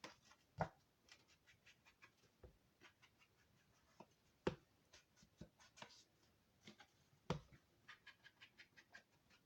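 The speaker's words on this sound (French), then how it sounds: "j'ai pris une base de cartes de chez Action en craft que je vais comment on dit, distresser, enfin vieillir" Kraft card bases being distressed and aged by hand for Christmas cards: scattered short scratchy scrapes and taps at close range, irregular and fairly quiet, with no voices.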